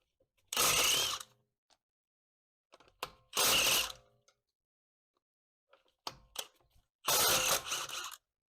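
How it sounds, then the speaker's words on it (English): An impact wrench with a 17 mm socket removes car wheel bolts on a Mercedes CLS/E-Class, three loud rattling bursts, each about a second long, with quieter clicks and handling noises between them. "get your impact wrench with a 17 mil socket"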